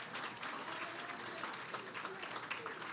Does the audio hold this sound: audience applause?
yes